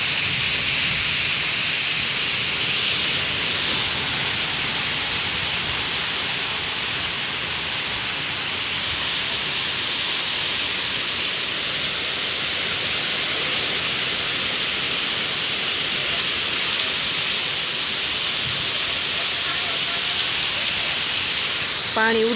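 Rain driven by wind across open farmland in rural Gujarat, a steady, dense hiss that holds evenly the whole way through with no pauses.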